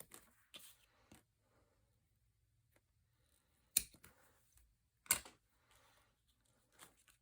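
Small scissors snip the tails of knotted cord on a handmade embellishment, several quiet, crisp cuts spaced irregularly against near silence.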